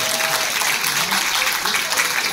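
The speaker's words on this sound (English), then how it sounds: "Round of applause, please, ladies and gentlemen." An audience at an RSL club applauds a Torres Strait Islander dance troupe, a dense, steady wash of clapping from many hands that fills the whole moment.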